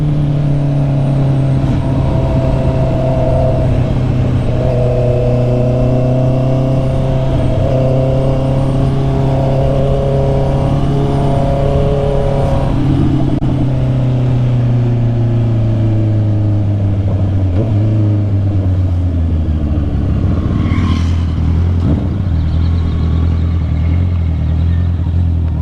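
A Honda CB650R 650cc inline-four motorcycle engine revs steadily and loud, with smooth rising and falling harmonic tones, settling lower near the end with a brief clatter, and no talk.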